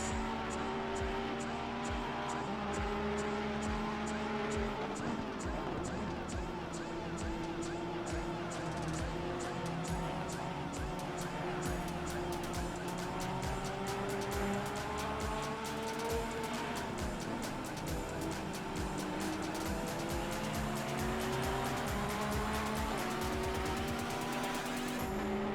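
Ferrari race car engine lapping Spa in a racing video game, a continuous close drone with shifting pitch and sharp rhythmic pops, while a voice talks over it.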